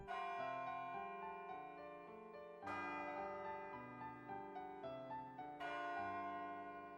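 Bells ring in a soft, melodic sequence of tones, with a fresh peal struck roughly every three seconds and each ring lingering into the next.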